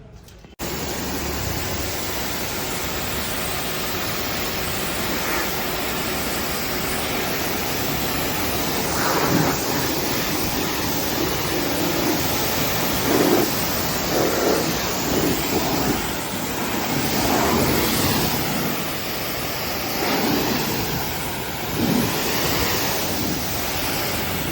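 Water spray rinses a car after a diesel wash: a steady, loud hiss of pressurised water that swells and fades slightly as the jet moves over the body, with no talking.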